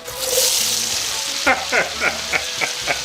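Chopped onions and garlic frying in bacon grease in a pot, a steady broadband sizzle with a series of louder scraping stir strokes in the second half, close and alone.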